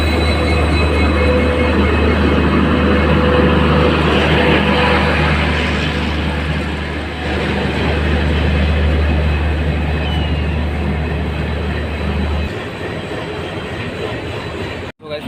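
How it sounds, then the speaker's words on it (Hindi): The Ganga Sutlej Express, hauled by a WDP4D diesel locomotive, rolls into platform 9 at Varanasi Junction. A loud, close, continuous rumble of wheels and carriages sits over a deep steady engine drone that cuts out near the end. "अपनी ट्रेन प्लेटफॉर्म नंबर 9 पे आ रही है।"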